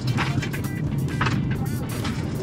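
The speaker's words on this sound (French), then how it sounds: "Des sorties de virage en pleine dérive, contrôler l'accélérateur, dans le slalom ici" A 2026 Lucid Gravity drifting through slalom corners on a test course gives a steady, broadband road and tire roar with a low rumble and some gusty wind noise, continuous throughout.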